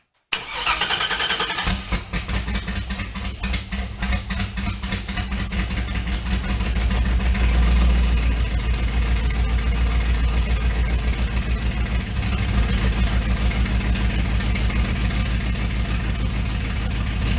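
LS-swapped 1979 Chevy Camaro, its fuel injectors just cleaned of gum, cranks briefly and fires up, then settles into a loud, steady, rumbling idle that runs on close by, with no talking over it.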